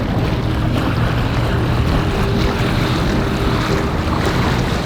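A dinghy motoring across open water in Georgian Bay and the North Channel, with a steady low outboard drone mixed with wind buffeting the microphone and water rushing past, loud and continuous throughout.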